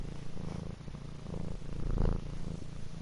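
A cat purrs close by, a soft continuous rhythmic rumble with steady in-and-out pulses and no other sounds over it.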